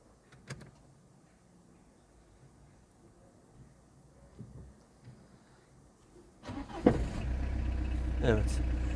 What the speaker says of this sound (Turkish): marş yapmak istiyorum